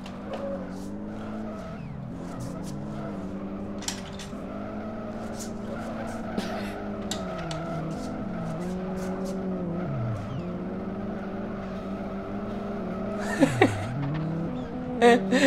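A car drifts in the Need for Speed video game, its engine note rising and dipping in long wavering sweeps while sharp tire squeals and skids punctuate the run, louder bursts near the end.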